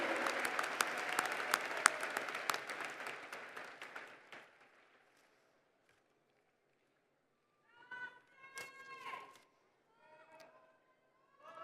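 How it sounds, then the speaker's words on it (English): A commencement crowd at Phoenix College applauds families and supporters, a loud burst of many clapping hands that tapers off over about four seconds, followed by quiet and then a voice speaking. "How about a round of applause for those who helped to ensure that you got here today?"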